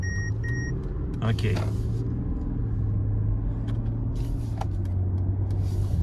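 Cars pulling away from a traffic light produce a continuous low road rumble that swells slightly as they move off, with a brief spoken word near the start.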